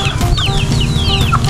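Chickens in a backyard flock of young roosters cluck and chatter steadily, several birds close by with overlapping calls and no voices.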